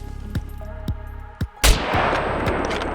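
Kar98 bolt-action rifle firing 7.92x57mm rounds at a metal base wall in the video game Scum: a few sharp single shots, then a loud blast with a long ringing decay.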